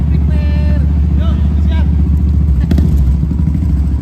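Idling Royal Enfield 350 motorcycle engine, a steady low throb running throughout, with a voice speaking briefly over it and a short clatter near the end.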